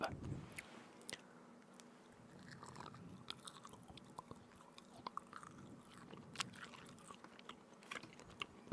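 Jerky chewed close to the mic, with soft wet mastication and sharp intermittent bites and crunches scattered irregularly over a quiet background.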